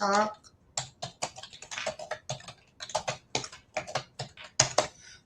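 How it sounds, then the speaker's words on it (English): Rapid clicking of keys on a computer keyboard in uneven bursts, close and clear, with a voice speaking briefly at the start. "I'm typing in now."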